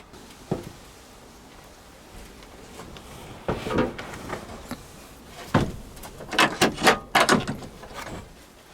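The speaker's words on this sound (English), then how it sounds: "let me close that door" Several irregular knocks and thumps, a door bumping and rattling before closing with a few sharp clunks, under a faint background hiss.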